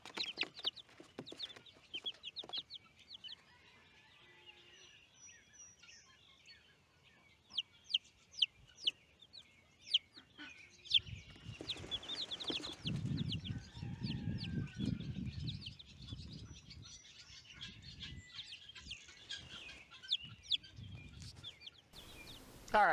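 Newly hatched chicks and ducklings on a homestead cheep and peep in scattered high calls, quiet at first and then busier and louder in the second half, with soft rustling and clucking beneath.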